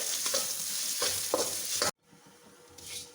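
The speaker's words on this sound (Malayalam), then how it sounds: "ഏത്തപ്പഴം എണ്ണയ്ക്കകത്ത് കിടന്ന് വഴന്ന് വെന്തു." Pieces of ripe plantain banana frying in oil for a Kerala pulissery, a steady close sizzle broken by a few stirring scrapes, then a brief hush before softer frying resumes.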